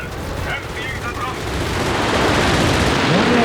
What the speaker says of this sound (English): Siberian's going to bring in the strafing run.